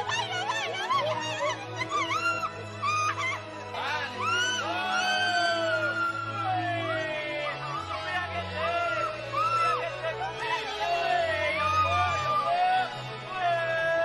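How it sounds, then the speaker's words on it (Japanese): A woman screams and shrieks while riding a giant swing out in open nature, her loud rising and falling cries repeating over about fourteen seconds above steady background crowd noise and a low hum. "大自然の中に私の悲鳴がこだましました。"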